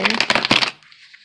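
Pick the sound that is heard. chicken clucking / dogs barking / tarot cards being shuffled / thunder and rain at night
tarot cards being shuffled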